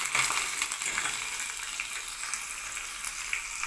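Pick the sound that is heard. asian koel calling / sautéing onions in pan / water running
sautéing onions in pan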